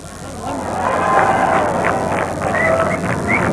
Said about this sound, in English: Big cheer for that single.